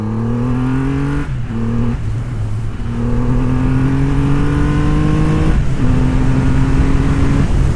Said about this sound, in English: we're going on a quick ride to feel the bike out